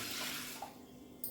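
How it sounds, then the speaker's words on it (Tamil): Water from a tumbler pours steadily for about a second, a broad splashing pour with a faint clink near the end, close by and without speech. "ஒரு டம்ளர் தண்ணி விட்டுக்கிறேன்"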